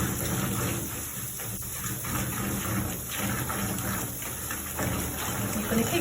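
Water sloshing and running while a kettle is rinsed out to clean water-based paint from equipment, a steady splashing gush with small irregular swells over a constant hum.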